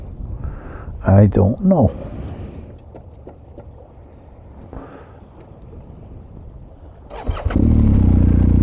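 A BMW R1250GS motorcycle by a lake: after a short stretch of talk and quiet, the engine starts up close by and settles into a loud, steady low rumble.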